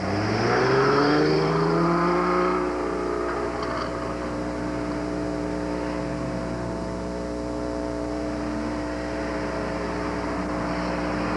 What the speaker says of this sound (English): Starting on the course now is car number 8, the Dodge Arrow.